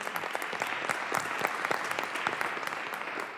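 Steady applause from an audience at a school board reorganization meeting, clapping for teachers who stand; dense, continuous hand claps at moderate distance, with no voices standing out.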